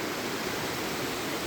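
A mountain river near Bhim Dwar rushes in a constant, dense wash of flowing water, steady and fairly close with no other sounds on top.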